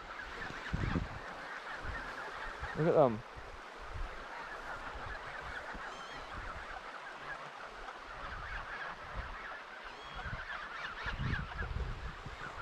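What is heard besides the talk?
field of geese honking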